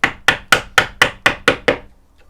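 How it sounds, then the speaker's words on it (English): Mallet-driven chisel chopping into wood at the gauge line of a half-blind dovetail, with the grain: eight crisp, steady knocks in quick rhythm, near and loud, with no voice, then a quiet pause. "I'm going to set my chisel right in the gauge line and chop it."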